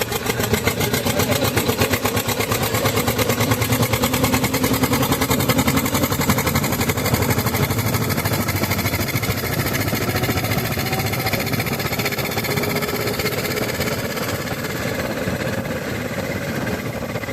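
An old 2011-model G-Ter tractor engine runs at a steady idle, a continuous rhythmic diesel chugging with mechanical vibration, close and consistent throughout with no talking.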